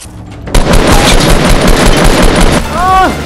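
Rapid, loud bursts of gunfire in a Fortnite-style game on Dusty Divot, a dense continuous rattle from close by, with a rising electronic whine toward the end.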